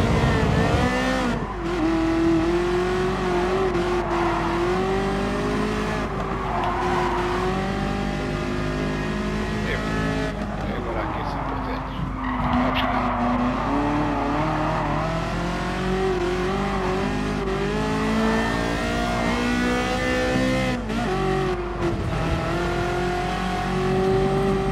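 A Ferrari F40 in the GT Sport racing game roars continuously, its engine note rising and falling through gear changes and revs, loud and steady with no talking.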